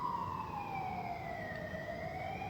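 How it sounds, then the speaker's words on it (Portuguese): An ambulance siren passes along a street in Madrid, its steady wailing tone sliding slowly in pitch, loud and continuous for the whole stretch over low traffic rumble, with no talking. "Tá passando uma ambulância aqui"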